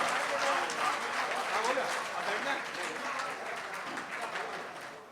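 Audience applause at a Hindi-Urdu kavi sammelan mushaira recital, a steady broadband patter of many hands clapping throughout, fairly sparse and thin, slowly tapering toward the end.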